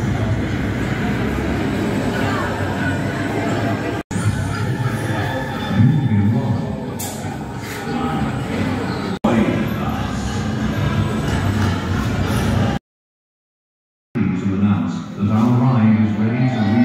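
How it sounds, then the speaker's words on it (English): Roller coaster trains rumble and clatter steadily along the track during test runs at Alton Towers, with a murmur of crowd voices underneath and a brief gap of silence near the end. "So they're now just testing a few of the trains now."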